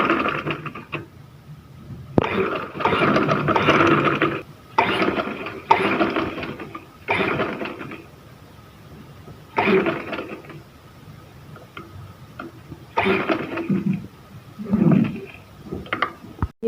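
Sewing machine stitching lace onto a trouser hem: short bursts of mechanical rattling and whirring, close, separated by brief pauses, with no talking over them.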